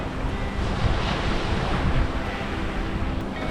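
Ocean waves wash onto a beach on Hawaii's Big Island, a dense continuous roar of surf with some wind buffeting on the microphone, close and steady for the whole stretch.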